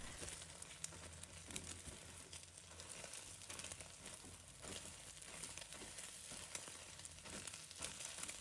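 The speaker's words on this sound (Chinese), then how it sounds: "定型完成后，用铲子把鸡蛋划拉成小块" Egg fries in hot oil in a home wok while a spatula breaks it into small pieces, giving a steady close sizzle with faint scraping and stirring throughout and no voices.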